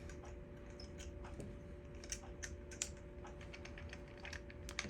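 A ratcheting screwdriver loosens the screw on a cord cap during a plug repair, giving a run of small, close, crisp ticks and clicks in an uneven rhythm over a steady low hum.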